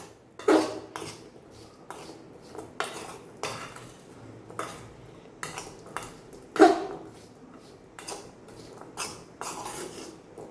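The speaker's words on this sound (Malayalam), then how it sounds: "എല്ലാം കൂടെ ഒന്ന് ഇളക്കി കൊടുക്കാം" Spiced tamarind pickle mixture with asafoetida being stirred in an aluminium vessel, with a series of sharp metallic scrapes and clinks at an irregular rhythm, close and clear, between quieter pauses.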